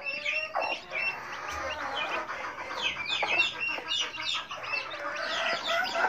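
A hen clucks softly while eating amid busy chirping and peeping from chicks, a continuous close-up barnyard chatter with no talking.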